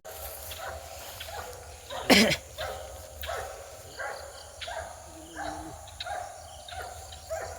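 A dog barks in a coconut plantation, a series of short, evenly spaced barks at moderate distance, one louder bark standing out early, with faint birds and insects in the background.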